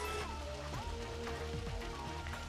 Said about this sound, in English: Also love the rain, gotta say that.